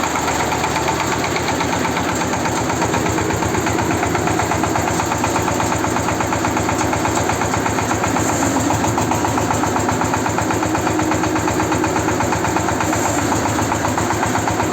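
A car engine idles steadily during a power steering pump test on a cold day, a close, even mid-pitched rumble with a fast regular pulse and no talk.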